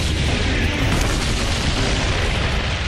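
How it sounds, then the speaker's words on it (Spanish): Tank cannon fire from a WWII Battle of Kursk tank battle, a dense continuous roar of booms and blasts, loud and unbroken, with no gaps between shots. "Los tanques avanzaban unos contra otros disparando"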